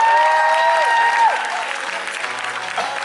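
Audience applause at a live songwriters' show breaks out loud and full, a steady wash of clapping from a big crowd that holds throughout with a bright tone running beneath it.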